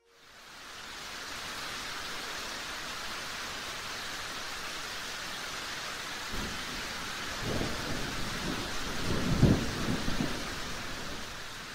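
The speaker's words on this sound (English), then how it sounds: "That night, we had a pretty heavy storm roll in." A heavy storm brings a steady roar of rain and wind, with low rumbles of thunder building in the second half, loud and continuous with no voices.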